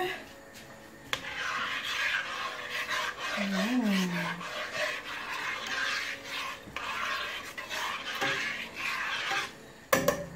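Couscous is stirred in a pot, with scraping and rubbing against metal, light clinks of utensils and brief clatters near the start and end.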